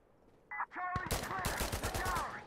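Rifle fire in the tactical shooter Insurgency Sandstorm: after a couple of short tonal interface beeps, a rapid automatic burst of sharp, loud shots rattles on in an even rhythm for over a second, close and dominant.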